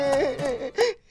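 Mournful crying from an animated fairy tale: a short wailing, moaning sob that rises and falls in pitch with a gasp near the end, close and alone.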